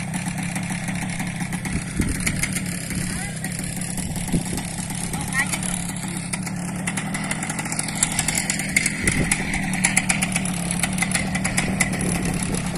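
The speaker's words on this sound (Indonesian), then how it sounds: "Ini para motor mau terbang." A paramotor engine runs steadily before takeoff at a paragliding event, a droning mid-pitched buzz with slight throttle swells, under and around people talking nearby.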